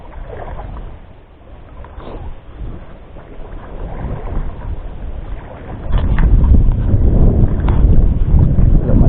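Strong monsoon wind buffets the microphone in a continuous roar during night fishing, growing heavier and louder partway through, with no voices.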